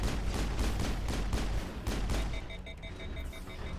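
Rapid automatic gunfire from the Mass Effect video game rattles in quick bursts for about two seconds, then gives way to quieter scattered shots and a few thin electronic beeps.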